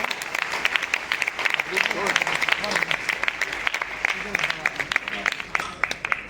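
Loud applause fills a hall at a certificate ceremony for student toppers, dense clapping from many hands continuing for several seconds, with faint voices mixed underneath.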